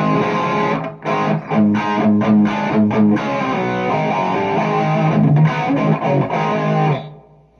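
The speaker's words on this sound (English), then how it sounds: "Just show you what the reverb sounds like through here." An electric guitar played through a Marshall Studio Vintage Plexi amp with reverb, a loud, clean strummed and picked chord passage that rings out into a reverb tail and fades near the end.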